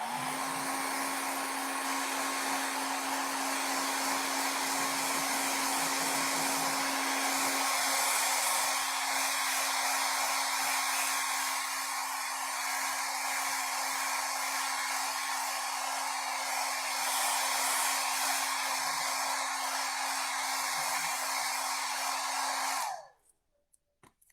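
A hair dryer blows steadily on freshly painted craft pumpkin, a continuous loud whir with a fixed hum that runs for over twenty seconds before cutting off abruptly, leaving near silence.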